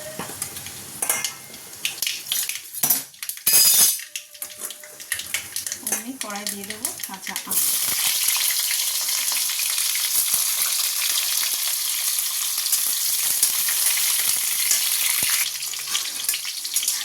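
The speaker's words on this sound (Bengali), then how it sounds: "সর্ষেটা দিয়েই চটপট করে ফাটতে লাগবে" Mustard seeds and green chilli spitting in hot oil, first with bursts of popping and utensil clatter, then settling into a loud, dense, steady crackle and hiss.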